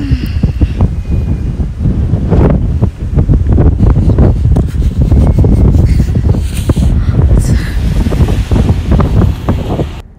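Strong, cold wind blows outdoors on an Abu Dhabi street at night and buffets the microphone with a loud, continuous roar and rumble for the whole stretch. No voices are heard.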